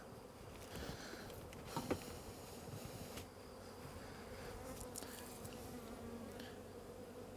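Honeybees buzz steadily in a dense, humming swarm as a hive is divided, with a few louder passes and faint tapping sounds.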